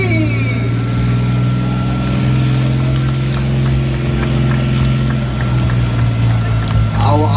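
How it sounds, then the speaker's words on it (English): A Bionix armored fighting vehicle moving at a Singapore Army open house, a loud steady low engine drone with whining tonal hum and faint clanks throughout, while a commentator talks over it. "Our armored fighting vehicle, the Bionics, is also coming into picture right now."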